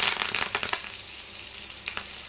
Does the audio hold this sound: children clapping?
no